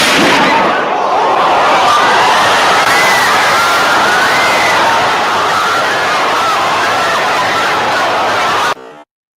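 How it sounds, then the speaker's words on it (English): Loud, dense crowd noise recorded on a cell phone, a steady wall of many voices and shouting at close range that holds throughout, then cuts off abruptly near the end. "you notice how loud it was with the crowd noise and everything"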